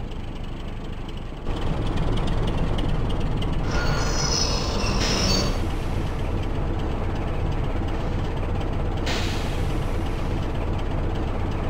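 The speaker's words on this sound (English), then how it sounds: "Our entire train is in the station." A simulated British diesel train in OpenRails, with Class 24 and 25 locomotives on a Yorkshire line, rumbles steadily and loudly, with wheel squeal and a shift in tone partway through.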